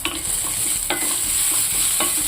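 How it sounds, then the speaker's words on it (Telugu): Green chilies and coriander leaves frying in hot ghee in a pan, a steady close sizzle with a few soft stirring scrapes, no voices. "కొంచెం పచ్చిమిర్చి వేగనిద్దాం ఒక్క రవ్వ. అలాగే కొత్తిమీర కూడా వేసేసుకున్నాం."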